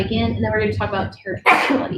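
A single sharp sneeze bursts out near the end, loud and close, right after a stretch of a person talking.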